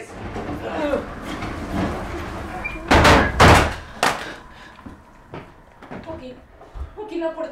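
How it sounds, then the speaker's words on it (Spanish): A stuck door is shoved and rattled, giving several loud thuds and clattering bangs in quick succession, close by, with people talking in the background. "la puerta no abre"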